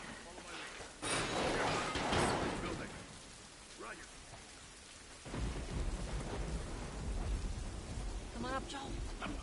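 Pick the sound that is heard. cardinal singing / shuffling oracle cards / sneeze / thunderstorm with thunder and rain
thunderstorm with thunder and rain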